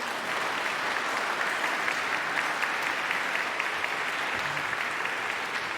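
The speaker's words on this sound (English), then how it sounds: "So let's give our moms a big round of applause" A Mass congregation applauds the mothers in the pews, a steady, even wash of many hands clapping throughout, moderately loud and without a break.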